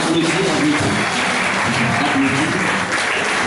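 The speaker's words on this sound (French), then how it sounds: "Applaudissez un peu plus fort." Church congregation clapping, a continuous loud wash of many hands with faint voices mixed in, steady from start to finish.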